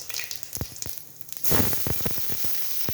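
Chopped onions hit hot oil with toasted cumin seeds for tea-shop onion samosa filling: scattered crackles and pops, then a sudden loud, steady sizzle as the onions go in, close and continuous.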